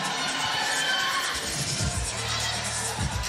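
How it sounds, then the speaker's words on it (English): A crowd cheers and shouts at a women's 3x3 basketball game between Hong Kong, China and Egypt, a dense, steady roar with a commentator talking over it. "The crowd is getting ignited."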